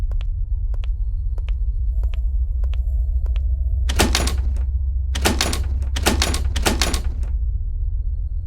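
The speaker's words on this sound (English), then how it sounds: "The door was unlocked. It can get a little sticky sometimes." A door opens in the haunted asylum of the video game Paranormal Entities, a run of loud creaking, scraping bursts over a steady low rumble, preceded by faint ticking clicks.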